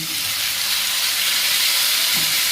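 Tomato paste goes into hot oil with reddish-fried onions in a home kitchen, giving a loud, continuous, close-up sizzle and hiss throughout.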